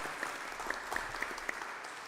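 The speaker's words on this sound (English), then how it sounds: "let's give everyone a round of applause for being here today" An audience at a state senate candidate forum gives a quiet, distant round of applause, soft clapping with a few sharper claps standing out.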